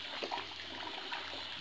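Water pours steadily into containers being filled, a brief continuous rushing hiss at moderate distance with no talking.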